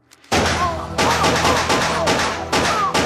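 Bursts of gunfire crash out in an action movie scene, with loud, dense volleys of shots ringing close and echoing, separated by short pauses between the bursts.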